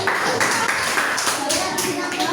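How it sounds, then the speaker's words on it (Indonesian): A school class claps together during a lesson, a close, continuous wash of many small hands with rhythmic surges and children's voices mixed in. "ya tepuk tangan untuk kita semua"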